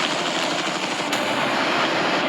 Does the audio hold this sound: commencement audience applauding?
no